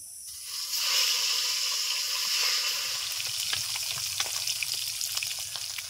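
Fish frying in a pan of hot mustard oil gives a steady, close crackling sizzle that starts abruptly and keeps bubbling and spitting with small pops throughout.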